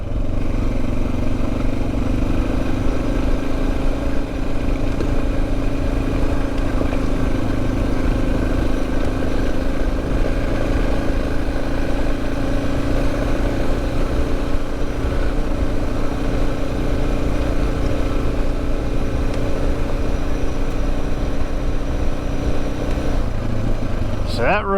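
DR650 dual-sport motorcycle riding over deep washboard gravel: steady engine drone with continuous clatter and rumble from the rough road, loud and close throughout.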